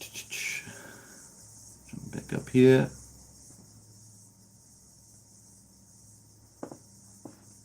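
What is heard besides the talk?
crickets chirping outside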